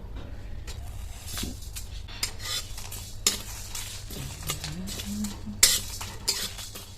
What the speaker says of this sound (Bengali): কড়াইটা বসিয়ে দিয়ে কিছু গোটা মশলা ভেজে নেব।